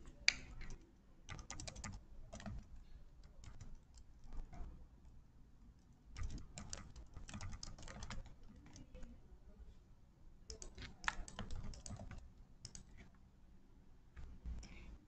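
Fingers type on a computer keyboard in quiet bursts of rapid clicks with short pauses between them, soft and close, with no voices.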